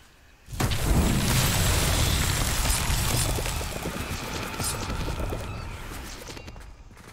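A Bombarda explosion spell goes off in a video game: a sudden loud blast that swells into a long rumbling roar with debris crackle, slowly fading over several seconds.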